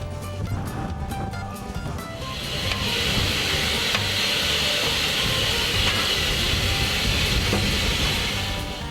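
A steam locomotive on the cog railway climbing Mount Washington keeps up a loud, steady rumble. From a few seconds in, a continuous hiss of steam joins it and holds to the end, with faint rhythmic chuffing underneath.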